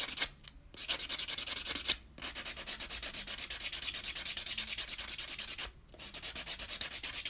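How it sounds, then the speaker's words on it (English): A buffer block rubs back and forth over a dip powder nail in a steady, close sanding rhythm, with brief pauses between sets of strokes and no talking. "keep the purple side of the block towards your cuticle to prevent tearing up your cuticle during buffing"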